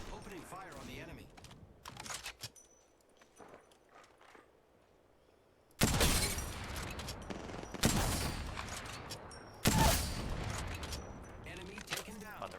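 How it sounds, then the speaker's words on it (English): Video game gunfire sounds in three loud, sharp bursts of rapid shots after a quieter stretch of soft clicks and faint noises. Each volley cuts in abruptly and then tapers off. "Opening fire on the enemy."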